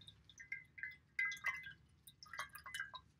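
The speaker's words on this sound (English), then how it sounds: "We dip the napkin in water and it's wet." A paper napkin dipped into water gives soft, faint drips and small liquid splashes, a handful of brief close wet sounds over quiet background.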